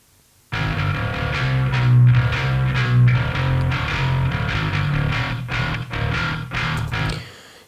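A heavily distorted bass guitar through a Darkglass unit plays a riff with a buzzy, fizzy top end, loud and continuous before stopping abruptly.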